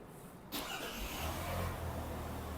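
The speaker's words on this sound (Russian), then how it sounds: "Также машину может штатного ключа запустить." A Tank 500 SUV starts remotely from its key fob, with a sudden engine catch after a quiet moment, then a low, steady idle rumble that continues close by.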